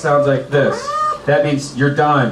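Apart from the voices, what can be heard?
cat meow sound effect signalling time is up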